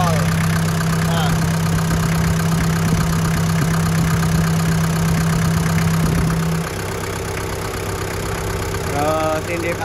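A 1996 Daihatsu Taft Rocky 4x4 engine idles with a steady low throbbing hum that settles slightly quieter partway through, close and continuous.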